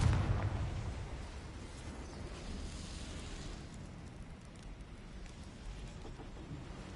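In the Hogwarts Legacy video game, a Confringo blasting spell bursts with a heavy, booming explosion at the start, then a long crackling rumble fades out slowly.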